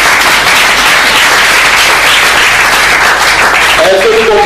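A congregation at a church sermon applauds in a loud, dense wash of clapping that runs throughout, with voices shouting over it.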